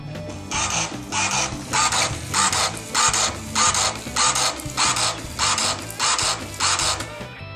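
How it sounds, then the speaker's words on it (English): Rhythmic mechanical whirring bursts from a Cab A4+M label printer printing perforated wire sleeves, about a dozen evenly spaced pulses in quick succession, close and clear. "we're just going to watch the printer first do this"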